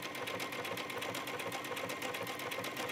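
Sewing machine running a stitch along a garment neckline, a fast steady mechanical whir with a regular rapid ticking of the needle, continuous and fairly quiet, no one talking.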